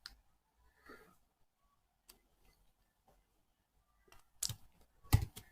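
Sparse, faint computer mouse clicks sound in a quiet room, a few isolated ticks spread out before a sharper cluster of louder clicks near the end.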